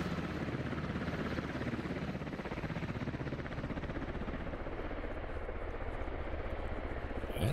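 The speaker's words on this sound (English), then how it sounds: "it looks like the helicopter has successfully made one drop off" A helicopter in the military shooter game Squad drones continuously with a steady rotor chop and engine whine, loud and close throughout with no talk over it.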